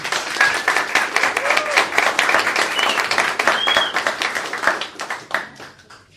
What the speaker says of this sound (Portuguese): eu queria uma salva de palmas bem calorosa